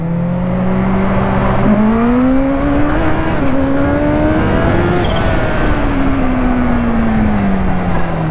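A Kawasaki Ninja H2 sport motorcycle engine revs high and drones steadily, its pitch climbing and falling through gear changes, loud and close with no talking.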